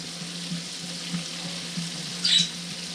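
Chicken wings frying in a pan, a steady low sizzle with a faint regular pulsing and a short brighter spatter burst near the end.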